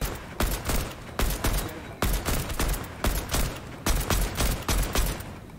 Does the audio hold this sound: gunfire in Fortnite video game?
yes